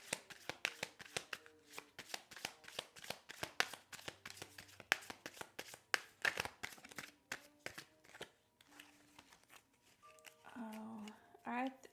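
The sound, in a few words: cards being shuffled for a card reading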